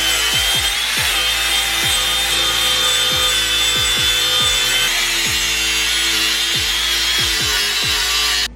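A car subframe being cut with a power tool: a loud, continuous harsh grinding roar runs the whole time, punctuated by regular heavy knocks, with no talking.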